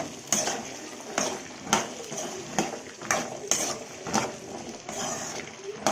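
A spoon scrapes and knocks in a pan while small gooseberries sauté for pickle, striking in a regular rhythm of about ten sharp, close strokes over a soft sizzle.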